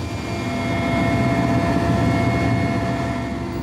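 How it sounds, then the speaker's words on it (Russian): A helicopter flies heavily over the Baltic Sea near the Curonian Spit, giving a steady, loud engine and rotor drone with a slight swell in the middle. It is heard from close by and there is no speech. "Вертолет грузно идет над Балтикой."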